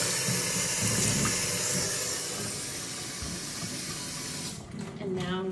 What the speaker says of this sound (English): I'm gonna take my container and fill it up.